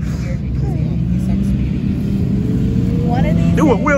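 A car engine drives past: a loud, steady low rumble that swells slightly toward the end, heard under people talking.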